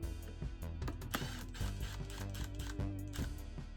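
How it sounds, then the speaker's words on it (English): A screw backed out of a wooden coffee-table spindle with a driver, rapid ratcheting mechanical whirring with short stop-start bursts, close and continuous. "now I can take my screw back out"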